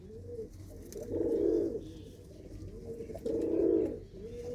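Slender-necked pet pigeons in a loft give two loud, rolling coos a couple of seconds apart, with softer cooing between them.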